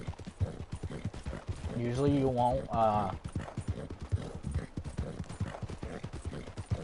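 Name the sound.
horse hooves galloping in video game Red Dead Online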